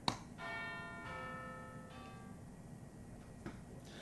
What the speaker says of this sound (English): The classroom empties at the sound of the bell